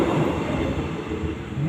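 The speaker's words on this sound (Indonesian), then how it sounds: "sini ada dekat kereta ya?" A train rumbles past close by with a continuous low roar and rattling of the wagons, loud and steady throughout, with no talking.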